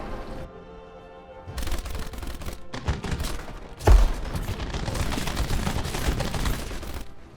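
B-17G bomber defensive guns firing in War Thunder, a dense roar of sustained machine-gun bursts with a heavy thump near the middle, loud and continuous with no talk over it.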